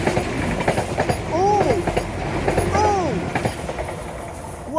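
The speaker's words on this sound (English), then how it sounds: "And here's another train." A train rolls past along the seawall railway at Teignmouth, a steady close rumble with clickety-clack and squealing wheel tones that swell and fade, while a voice briefly exclaims over it.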